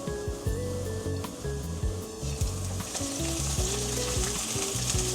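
Tsuyu poured into a hot frying pan with olive oil and frozen minced garlic: a close sizzle that grows into a louder, broad hiss partway through, with light stirring scrapes and no talking.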